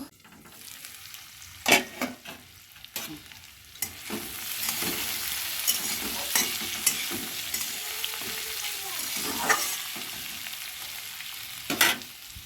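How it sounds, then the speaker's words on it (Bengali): Sliced bitter gourd (ucche bhaja) frying and being stirred in a pan in a home kitchen, a soft continuous sizzle broken by sharp clinks and scrapes of a spatula, with no talk. "ওই দেখো উস্তা ভাজাটা করছি"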